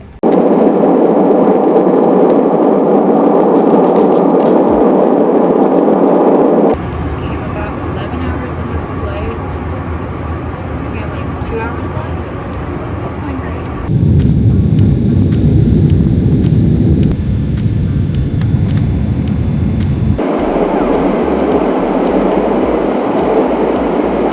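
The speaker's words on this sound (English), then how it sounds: "Airport right now." Early-morning airport ambience: a continuous loud roar and hum of engines and ventilation, changing abruptly in tone several times, with no clear voices standing out.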